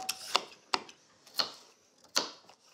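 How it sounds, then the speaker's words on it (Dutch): A knife chops leek and carrot on a cutting board in sharp, separate strikes spaced about half a second to a second apart, fairly close and with no talking. "jullie mogen de groenten zo klein als je kan snijden"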